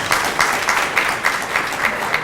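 Indoor audience at an evening event applauding steadily, a loud, even wash of many hands clapping with slight rhythmic pulses, continuous for the whole stretch with no voices over it.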